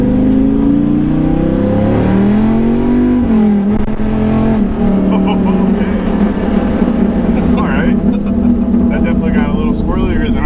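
A Dodge Viper truck on cold summer tires accelerates hard, its engine note rising and falling loudly through the gears from close range, with people talking over the roar.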